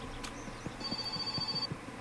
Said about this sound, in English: after we answer the phone.